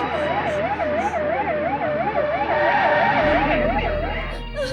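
A wailing ambulance siren rises and falls in a steady, loud, continuous cycle during a dramatic emergency scene in a Hindi-dubbed South Indian film.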